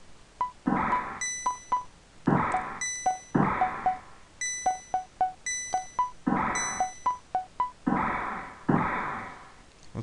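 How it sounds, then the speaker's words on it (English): Prayer bell ringing in the Breath of Fire II video game: repeated clear, tonal chimes in uneven groups, with loud struck rings followed by quicker softer pings, alone and close. "Would you take my buddy's place and ring the bell?"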